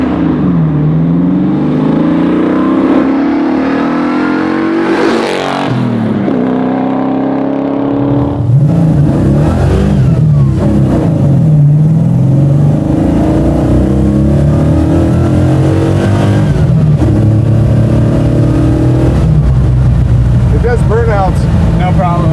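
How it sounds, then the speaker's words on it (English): A 1970 Dodge Charger restomod with a custom 426ci engine doing burnouts: a loud, sustained engine roar with rising and falling revs throughout, and voices talking over it. "Yeah, it does burnouts."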